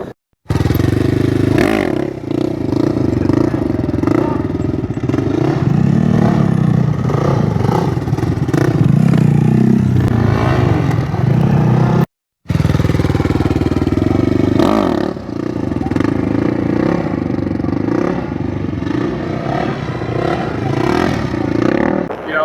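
A motorcycle doing standup circle wheelies holds a steady revving engine note for long stretches, cutting out abruptly once before resuming, with some clatter and scraping mixed in.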